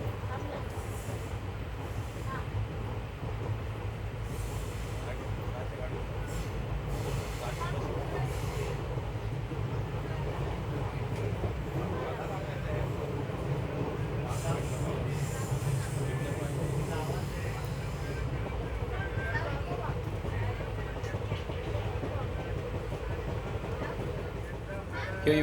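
The Koyna Express runs around the Adarki horseshoe curve, a continuous loud rumble of wheels and carriages with faint rhythmic clatter, heard from on board with voices talking in the background.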